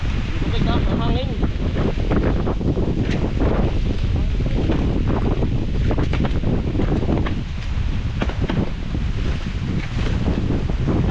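Wind buffets the microphone in a lanzones orchard during harvest, a loud, steady rumbling roar that lasts the whole stretch with only a brief dip, and some faint voices mixed underneath.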